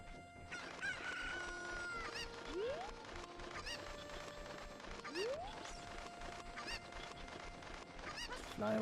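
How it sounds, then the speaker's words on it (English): A chicken in the video game Ocarina of Time crows and clucks in short bursts, with game music and effects running underneath throughout. "It's a chicken."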